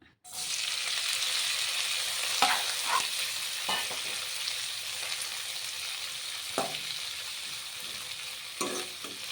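Washed ajwain leaves hiss and sizzle steadily in hot oil, with a few scraping stirs of a spoon in the pan; close and continuous with no talking.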